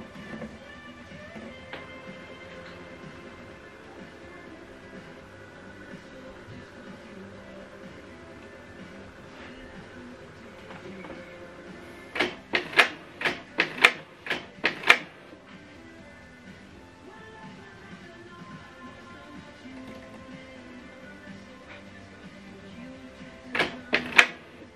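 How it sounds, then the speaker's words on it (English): A Canon TS305 inkjet printer prints a document: a steady low whir runs throughout, then a cluster of sharp mechanical clicks and paper-feed bursts comes midway, with one more short burst near the end. "And right now this document is right now printing."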